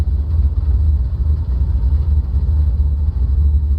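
A piston aircraft engine idling at about 700 RPM in Microsoft Flight Simulator, a deep, steady low rumble heard from inside the closed cabin, loud and unbroken with no voices.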